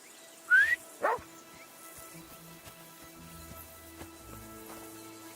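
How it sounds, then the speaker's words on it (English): A dog in Kingdom Come Deliverance 2 gives two short, loud barks close by, then trails off into soft whimpers and yips over a quiet game background. "Get that mutt of yours to stop barking, will you?"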